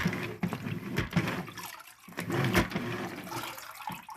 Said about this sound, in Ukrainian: Чуєте, хлюпає?